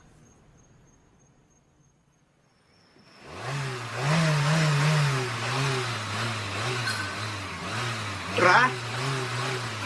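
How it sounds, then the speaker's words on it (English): A car engine starts after a quiet stretch, then runs with a rising and falling rev, loud and close, while a voice speaks briefly over it. "I wonder if you could turn the engine off, Ra. Just for a moment."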